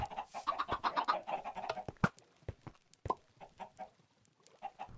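Chickens cluck on a farm in a video game, a burst of overlapping clucks and squawks followed by scattered, sharper single clucks, close and moderately loud with no voices.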